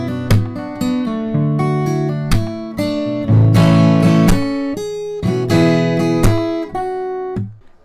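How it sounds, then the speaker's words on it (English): A fingerstyle acoustic guitar riff, from a cover, mixes picked notes with sharp percussive slaps of the right hand on the strings in a steady driving rhythm, loud and close, with no talking. "it's basically picking while hitting the strings with your right hand"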